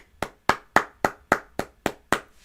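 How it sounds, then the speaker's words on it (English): A small group clapping in eight slow, evenly spaced claps, each crisp and fairly close, with short silent gaps between them and no voices. "Little round of applause."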